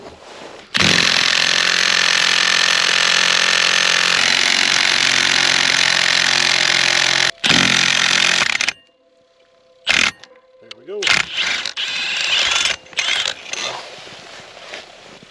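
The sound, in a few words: clutch puller removing Arctic Cat snowmobile primary clutch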